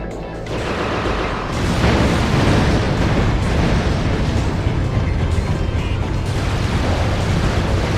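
Explosions from a mortar launcher in Ratchet & Clank Deadlocked, a dense, loud barrage of booming blasts and bursts rolling continuously after a brief quieter start, with no talking.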